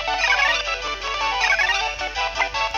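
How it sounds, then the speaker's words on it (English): Chingling's cry from the video game Pokemon Ranger: Shadows of Almia, a bright tinkling, bell-like chime repeated in a few clear, sustained electronic swells. "this is what a Chingling sounds like"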